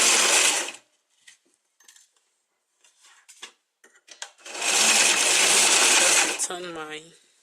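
A sewing machine stitches a seam on a knitted gown in two loud whirring bursts separated by quiet handling clicks and rustles, close by, with the second run trailing off into a brief spoken voice.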